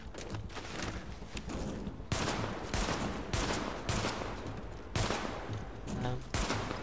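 Video game gunfire, bursts of rapid shots and machine-gun fire in dense clusters, moderately loud and continuous with brief gaps between volleys.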